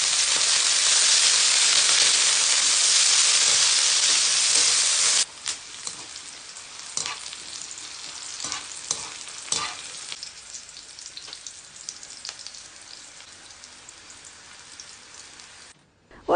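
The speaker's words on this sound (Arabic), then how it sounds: "وبنفس الزيت رح نقلي كمان الفليفلة." Peppers dropped into hot oil, a loud dense crackling roar for several seconds that then settles into a quieter popping sizzle with sharp scattered spatters and stirring knocks, close and without speech.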